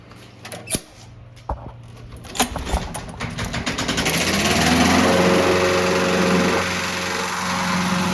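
A small Craftsman lawn mower engine sputters on a cold start with a few pops and coughs, then catches and settles into a steady, loud running drone.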